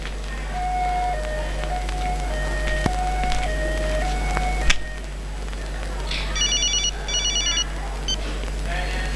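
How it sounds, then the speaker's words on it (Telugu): A telephone rings with a repeating electronic ringtone melody in a scene from a Telugu film song, the tones stepping up and down over a steady low hum, followed later by short bursts of trilling beeps. "బాబాజీ ఫోన్."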